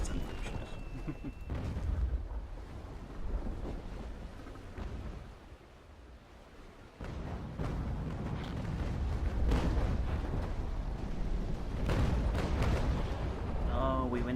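A warship's naval cannons firing a broadside in a video game, deep rumbling booms rolling like thunder, a quieter stretch midway and then heavier sustained cannon fire, with a voice talking over parts of it.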